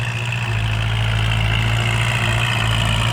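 A tractor engine idles steadily with a deep, continuous low rumble and a constant drone, close by with no talking.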